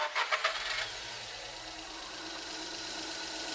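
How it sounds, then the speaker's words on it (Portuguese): Car engine cranking and catching on a workshop test, a brief burst of starter turnover at the start that settles into a steady idle hum, close and without talk. "Vamos dar a partida no veículo aqui para ver o que acontece."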